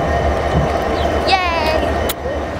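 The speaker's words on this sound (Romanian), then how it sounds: "Uite ce tren lung." A long train at Constanța station gives off a steady rolling rumble with a brief metallic squeal partway through, while people talk nearby.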